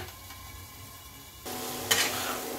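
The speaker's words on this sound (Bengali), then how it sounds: "এবার আমি মশলাটা ভালো করে কষিয়ে নিচ্ছি।" Spice paste for a tangra fish curry with stalks and potatoes is stir-fried in a pan. A quiet start gives way to a louder, steady sizzle with a sharp scrape partway through.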